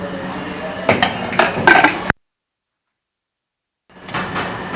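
A metal lid is set onto a cooking pot of mango pulissery, giving a few close clinking, scraping clanks of metal on metal before a brief gap of silence.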